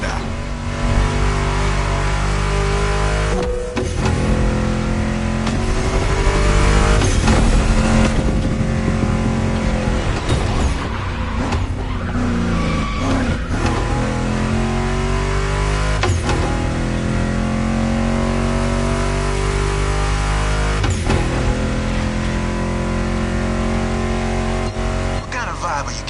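A Ford Mustang GT muscle car in the racing game Motorfest revs and accelerates, its engine pitch rising and falling through gear changes, loud and close, with music and a voice talking over it.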